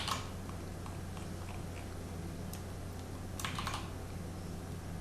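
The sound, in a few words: typing on a computer keyboard to cut and paste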